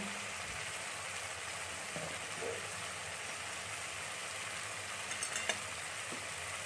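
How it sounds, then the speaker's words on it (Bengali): Spice paste for a chicken skin curry fries in a pan with a steady, soft broadband sizzle throughout, and a few faint stirring scrapes come near the end; no one speaks. "এবার আমরা মশলাটাকে খুব ভালো করে একটু কষিয়ে নেব।"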